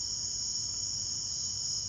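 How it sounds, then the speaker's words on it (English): Unbroken shrill trilling from a camel cricket at night, close and steady throughout, with nothing else audible. "Aw. Friendly little cricket."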